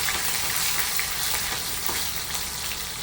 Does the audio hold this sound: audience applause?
no